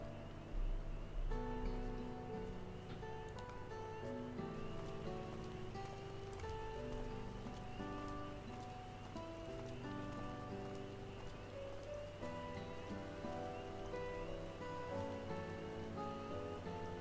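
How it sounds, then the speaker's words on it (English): Rain falls in Final Fantasy XIV as a steady soft patter and hiss, continuous and even for the whole stretch, laid under a quiet, sustained game music bed with no voices. "It started raining!"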